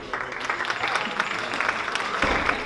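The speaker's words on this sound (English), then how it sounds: "A great big round of applause for all the actors and to Chandra Mehta" Audience applause for actors after a Ramlila performance at a Hindu and Jain temple in Las Vegas, a dense patter of many hands clapping steadily for a few seconds, moderately loud.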